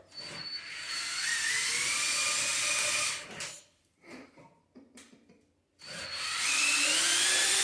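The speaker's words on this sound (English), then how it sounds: "here's a couple of clips of it running off the drill" An electric drill spins the input shaft of a homemade Predator 212 pickup truck, giving a high whining buzz in two long bursts with a brief stop-start pause between them.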